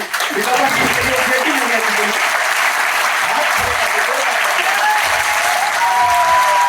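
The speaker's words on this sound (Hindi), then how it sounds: "तो एक बार मैं जोरदार तालियां चाहूंगा" Loud, steady applause from a large audience at a business meeting, a thick even wash of clapping that holds from start to finish with some voices faintly mixed in.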